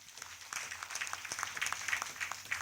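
Audience at a village ward council meeting applauding, a modest patter of scattered hand claps at medium distance that swells and thins unevenly over a few seconds.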